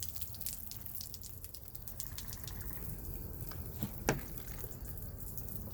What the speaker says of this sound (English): you open the valve here, and presto, you've got water